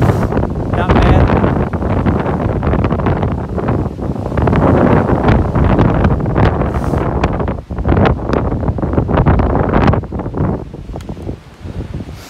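Wind gusts hard across the microphone on the Appalachian Trail during a hike, a loud, rough roar that rises and falls continuously.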